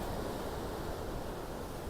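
Ocean waves surge beneath a natural rock bridge on the coast, producing a constant, faint wash of rushing water and wind-like noise with no distinct breaks.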